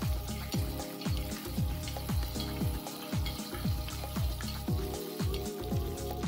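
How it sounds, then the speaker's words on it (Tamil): Small onions sauté in a pan of oil for a mutton paya bone soup, giving a steady, close crackling sizzle with a busy, rain-like patter that keeps going throughout. "சின்ன வெங்காயம், இது எல்லாமே இது மூணையும் நல்லா வதக்கிக்கங்க"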